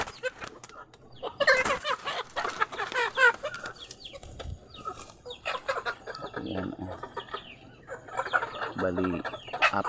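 Native chickens cluck and squawk in bursts, close by, with a few sharp calls mixed in against a quiet outdoor background.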